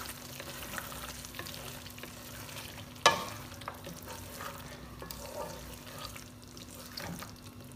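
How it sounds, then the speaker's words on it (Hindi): Chicken white karahi with lemon juice sizzles faintly in a pan, with soft stirring and one sharper clink of a utensil partway through, quiet and without speech. "और इसको करेंगे एक बार हल्का सा मिक्स"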